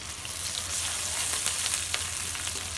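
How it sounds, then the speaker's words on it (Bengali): Onions frying in oil in a wok for a curry: a steady, close, continuous sizzle and hiss with no break and no talking. "কড়াইতে তেল দিয়ে দেবো তরকারি কষানোর জন্য। তেলের উপরে দিয়ে দেবো পেঁয়াজ।"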